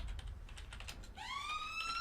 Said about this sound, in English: apologies for the sirens outside.